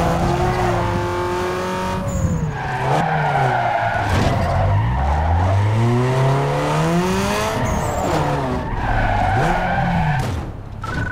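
A car in Need For Speed Underground 2 revs loudly and skids, with rising and falling engine whines and screeching tire squeals close up across the whole stretch.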